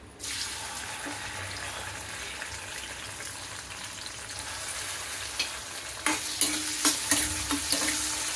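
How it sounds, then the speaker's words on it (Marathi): Onion sautéing in a pan, part of a spiced masala curry base, makes a continuous close sizzle, with sharper scrapes of a spoon stirring toward the end. "कांदा चांगला परतून घ्यायचा।"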